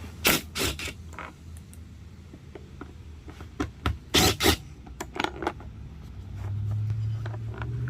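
Sharp ratchet clicks and creaks in short bursts from a 3/8 drive ratchet backing bolts out of a Polaris Trail Blazer 250, close up, with a low steady hum rising toward the end.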